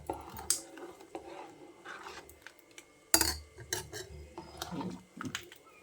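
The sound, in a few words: spoon mixing ground masala into cucumber curry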